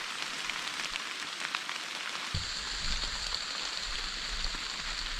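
Heavy rain pours down outdoors during a deer hunt in a downpour, a dense, steady hiss of drops with a low rumbling patter joining partway through.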